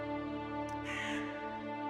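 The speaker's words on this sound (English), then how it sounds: "What are you doing, little crowsies?" A crow in a video game gives a single short, harsh caw near the middle, over a constant layered musical drone.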